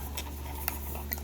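A spoon being handled, a few faint light metallic clicks and taps spaced irregularly over a steady low hum, quiet and close with no talking.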